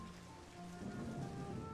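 Pouring rain in a flash visual novel game, a steady soft hiss of heavy rainfall with a faint low rumble underneath, quiet and unbroken throughout with no voices.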